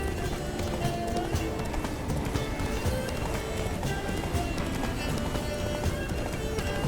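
Horse hooves gallop in a fast, steady clip-clop across open ground in The Witcher 3 video game, a continuous running rhythm with occasional snorting, heard alone without speech.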